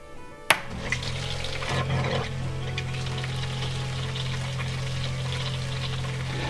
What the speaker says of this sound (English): run the pump for maybe 5-10 seconds, enough to purge the water out of the pump